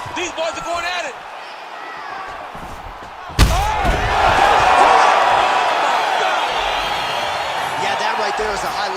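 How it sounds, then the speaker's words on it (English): A fight crowd roars after a knockout at a WCFC 7 MMA event, a sudden loud thud followed by sustained cheering and shouting that swells and hangs on, with a commentator talking over it. "Crowd absolutely loving it."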